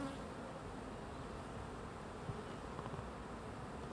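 A dense, continuous buzz of many honeybees in a hive, steady and fairly quiet, with no voices.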